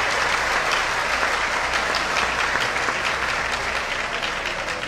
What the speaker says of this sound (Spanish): un aplauso para las mujeres